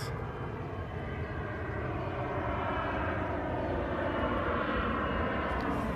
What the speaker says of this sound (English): We have a plane up there going.